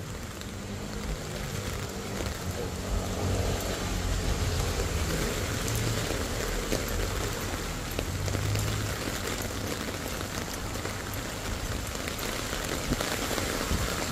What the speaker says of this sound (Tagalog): Umuulan pa.